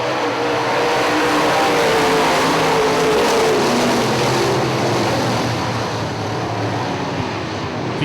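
UMP late model race cars racing at Hartford Speedway Park in 2005, a loud continuous roar of many engines at full throttle as the field passes, steady and near, with no talk.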